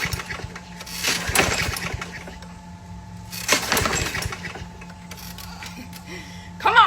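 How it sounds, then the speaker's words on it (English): A lawn mower runs on a residential lawn as it is pushed around, its engine a steady hum with two louder surges of rattling, clattering bursts from the blades, and a brief high squeal near the end. "I thought I should record my first time ever mowing the lawn"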